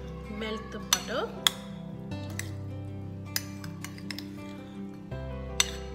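Butter being stirred into hot corn kernels with chili powder in a pan, giving light clinks and scrapes of a utensil against the pan at irregular intervals over a steady low hum.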